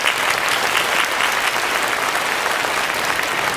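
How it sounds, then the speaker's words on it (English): A concert audience gives a sustained, even round of applause for grade 9 band leaders at a school fall jazz band concert, with no voices over it. "Give them a big round of applause."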